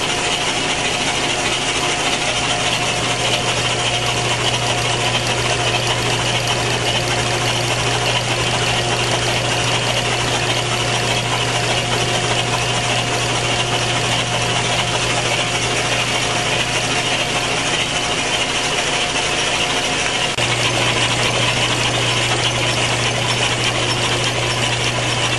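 A steady, loud mechanical drone with constant whirring and ratcheting texture from an LS engine running on a Simtester in an automotive machine shop, unbroken for the whole stretch, with a slight shift in tone near the end.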